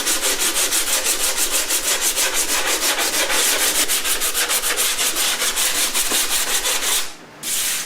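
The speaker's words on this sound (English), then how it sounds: "I'm going to get after it with the 80 grit block" Body filler on a Honda Sabre café racer project is hand sanded with an 80 grit block, giving loud, rhythmic back-and-forth rasping strokes that are close and steady, then a short pause near the end.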